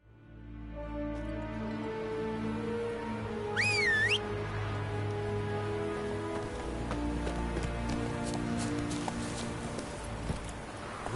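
Geralt's horse Roach in The Witcher 3 runs through steady rain, the hoofbeats blending into a constant patter with a low musical drone and a brief rising tone near the middle.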